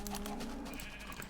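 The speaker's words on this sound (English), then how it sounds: "I didn't even know there was a brown sheep near me." A brown sheep in the video game Minecraft gives a single short, close bleat with a wavering tone.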